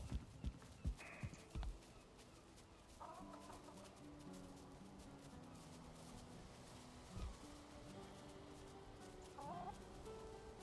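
Chickens clucking in the video game Valheim, soft intermittent hen calls mixed with hoof clip-clops and a few thumps, fairly quiet and without talk.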